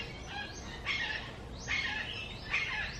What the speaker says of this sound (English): Oh yeah, the mockingbirds are angry.